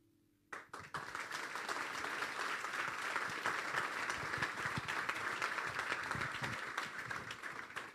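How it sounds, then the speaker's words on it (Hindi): Church congregation bursts into loud, dense applause after a brief quiet moment, steady and sustained clapping filling the space until the end. "जोरदार तालियां यस्सु के जलाल के लिए।"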